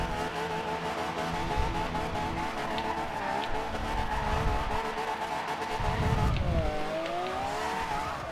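Toyota Supra drifting in Forza Horizon 2, its engine droning steadily in second gear with squealing tires and rising and falling revs as it slides, loud and continuous.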